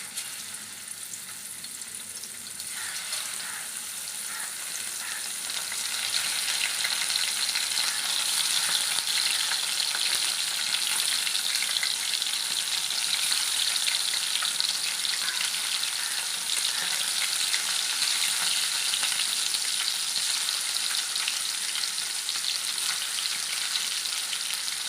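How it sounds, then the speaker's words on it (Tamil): Kavalai fish pieces frying in hot oil in a pan, a loud continuous crackling sizzle that swells after a few seconds and holds steady throughout, with no voices. "இப்போ இது கொஞ்சம் நல்லா ஃப்ரை ஆகட்டும்."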